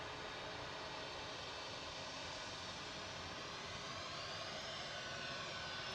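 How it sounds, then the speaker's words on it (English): Emirates Boeing 777 at Manchester Airport, a steady broadband jet roar that holds evenly throughout, with a faint rising whine late on; no voices. "Emirates 777."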